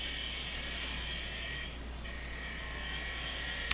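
An Easy Wood number 1 hollower steadily scrapes out the inside of a wooden whiskey smoker on the lathe, a close, continuous hissing rasp with one short dip midway.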